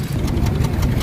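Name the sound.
Hyundai Accent 1.4 gasoline engine misfiring, loud exhaust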